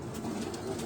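A pigeon coos softly and steadily, fairly faint against a busy background, with no voices.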